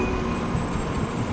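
A Shinkansen bullet train at Toyohashi station rumbles close by in a steady, loud, unbroken drone with faint high whine overhead.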